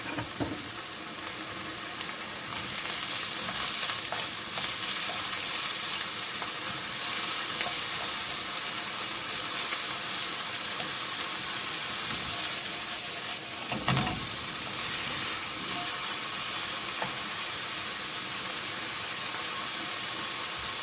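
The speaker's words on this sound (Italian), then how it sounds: "lasciamo rosolare ancora un po'" Vegetables and potatoes, including tomato and fennel, fry in a pan for Sicilian black lentils, giving a loud, continuous sizzle with occasional stirring scrapes, close and steady throughout, with no talking.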